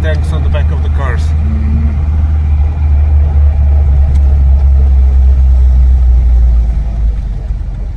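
A car drives through the streets of Donetsk, its low engine hum steady and close inside the cabin, while people talk over it at the start.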